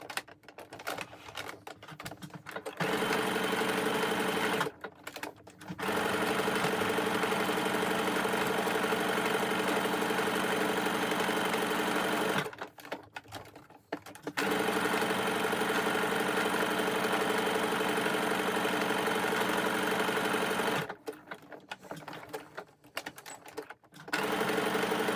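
Sewing machine stitching T-shirt fabric in long, steady, loud whirring runs, broken by three short pauses with quiet handling of the cloth.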